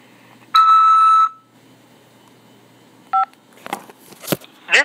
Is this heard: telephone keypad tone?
yes